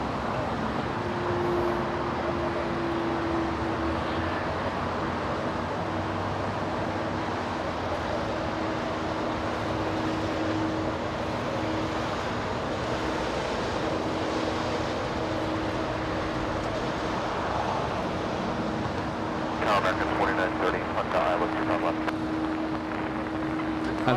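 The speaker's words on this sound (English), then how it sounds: "Pratt & Whitney engines. It's the 777 spooling up." Boeing 777 with Pratt & Whitney engines spooling up at LAX: a steady, broad engine roar with a sustained whine, continuous at moderate distance, swelling with extra hiss near the end amid general airport background noise.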